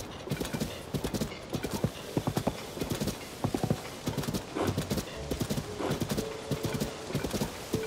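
Horse hooves in Zelda: Tears of the Kingdom while riding near Hateno, a steady galloping clip-clop that stays close and even throughout, with a brief whinny in the middle.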